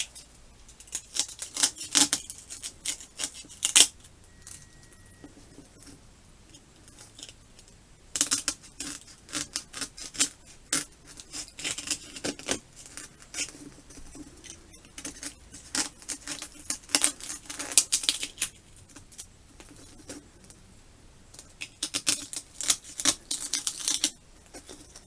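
Foam sphere being carefully cut away to open up the mouth of a Disney Snowgies prop, giving sporadic clusters of small crisp snips and scraping ticks alone, close and fairly quiet with short pauses between bursts.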